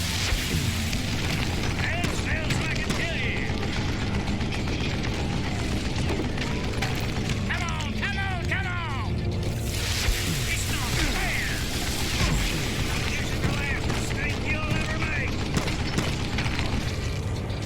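Dense, continuous game-combat din from a Gatling gun in the PC western shooter Call of Juarez: Gunslinger, with rapid mechanical clatter and booms running the whole stretch under a busy music and effects bed.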